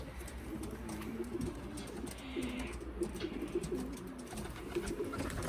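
Racing pigeons in a loft coo softly and repeatedly at close range, low rolling calls recurring throughout over faint outdoor background noise.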